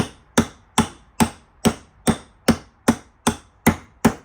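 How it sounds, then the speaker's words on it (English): Eleven crisp metallic taps from a hard hammer seat a Speedi-Sleeve on a Toyota FJ40 Land Cruiser, landing in a steady, even rhythm, each one light and close with a short ringing decay. "light taps with the harder hammer"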